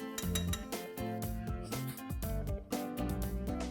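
A spoon working rich cream into carrot halwa in a pan, clinking and scraping against the metal in quick irregular strokes, close and fairly quiet, with music playing under it.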